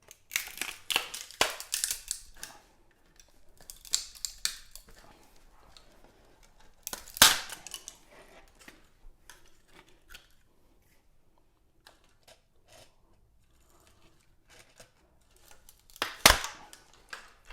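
Scissors cut through DIY moss pole material for a houseplant, with a few sharp, close snips spread across a mostly quiet stretch and a louder cut near the middle and another near the end.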